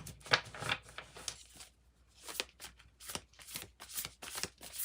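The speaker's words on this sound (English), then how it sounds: "Let's pull from the Wild Unknown Alchemy deck first, and let's see." A Wild Unknown Alchemy oracle deck is shuffled by hand nearby, with repeated riffling and rustling bursts of cards in an uneven rhythm and only faint background sound.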